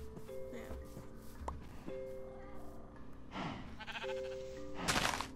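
Sheep bleating in the video game Minecraft, several wavering bleats with clear harmonic tones rising over a quiet background, a louder burst near the end, with a voice talking in places.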